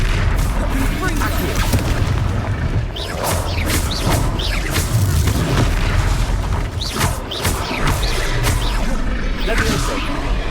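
Confringo fire-spell blasts go off during a Hogwarts Legacy battle as repeated loud booms and crashes, layered over combat noise and shouting voices.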